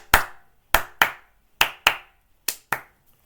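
Hands clap seven times in sharp separate bursts at an uneven pace, each crack loud and close with a short decay into silence.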